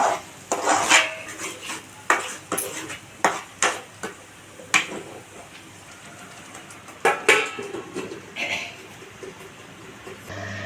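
Brinjal masala curry is stirred in a pan with a metal spoon. Sharp scrapes and clanks of spoon against pan come in uneven bursts over soft, steady background noise, close by and without talk.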